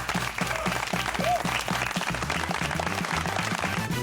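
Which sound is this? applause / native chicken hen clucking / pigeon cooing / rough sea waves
applause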